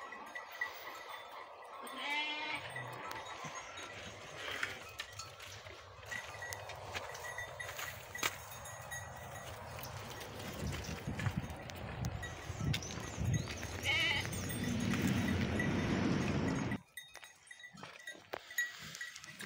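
Sheep and a newborn lamb bleating in a pen, several soft calls scattered over a steady farmyard background, fairly faint and close, with no talk.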